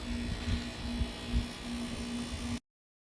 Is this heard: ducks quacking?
no